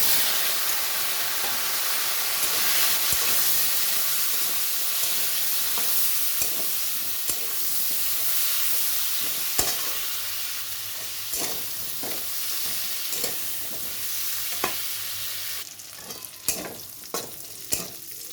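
Cauliflower and potato fry in hot oil with whole garam masala and bay leaf, giving a long, steady sizzling hiss with occasional scraping stirs that come more often toward the end.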